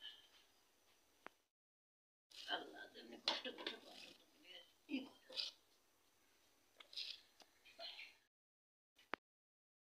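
Vegetables, onion greens and cabbage, being cut on a board in a home kitchen, with a run of close, irregular chopping and rustling strokes between quiet pauses.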